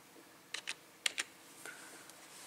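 Keys clack on a computer keyboard in a few quick pairs of close, crisp taps separated by short pauses, with a soft click or two afterward.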